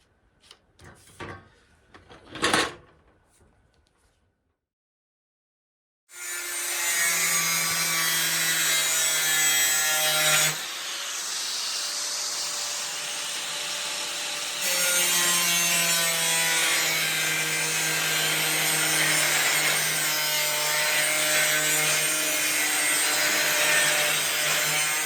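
A piece of steel being cut out to make a template for a classic car's windscreen and headliner work: a loud, continuous, high-pitched grinding whine lasting about twenty seconds, shifting tone midway, after a few short clanks.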